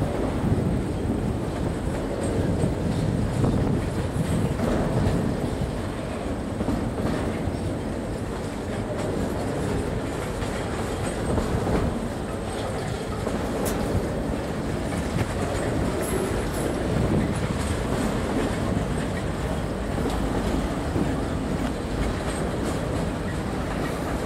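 A CP freight train of hopper and tank cars rolls steadily past at close range in Windsor, Ontario, with continuous rumbling and rail clatter throughout and no talk.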